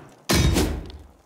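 Weapons tossed in the Avatar: The Last Airbender: Quest for Balance video game land as one sudden, heavy thud that rings briefly and fades over about a second.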